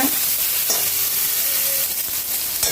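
Brinjal slices coated in salt and turmeric fry in a pan of oil, giving a steady, close sizzle with light stirring scrapes throughout and no talking.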